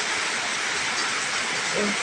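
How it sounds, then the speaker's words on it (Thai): Late-night rain drums on a corrugated metal roof as a dense, unbroken hiss filling the whole stretch, with a faint vocal sound briefly near the end. "ตกใส่สังกะสีปุ๊บปุ๊บปุ๊บ"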